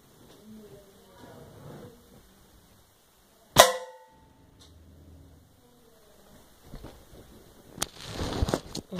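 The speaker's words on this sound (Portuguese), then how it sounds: "o tiro que dei foi esse daqui de cima" A single sharp crack from a homemade air gun bursts out sharply in the middle, set between quiet stretches with handling noises and a louder rustle near the end.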